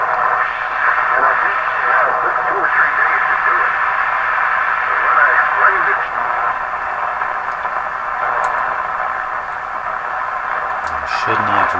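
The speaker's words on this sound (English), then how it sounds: "Some kind of digital transmission there." Radio static and a warbling digital transmission received on an RCA Victor 5T5 tube radio running at full power, a steady loud hiss with chirpy modulation throughout, easing slightly toward the end.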